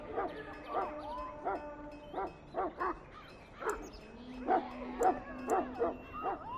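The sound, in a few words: Mabari warhound barking in video game Dragon Age: Origins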